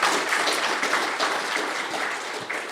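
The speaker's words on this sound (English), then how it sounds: "Let's give him a round of applause for that." A convention panel audience gives a brief burst of applause, dense and steady clapping that fades slightly toward the end.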